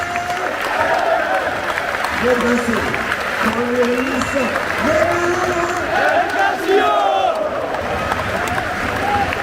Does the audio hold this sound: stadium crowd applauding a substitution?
yes